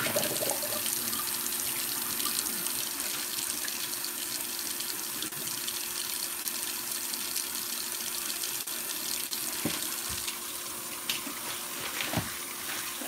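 A kitchen tap runs while porterhouse steaks are rinsed under it, a continuous splashing stream into the sink that stays steady throughout.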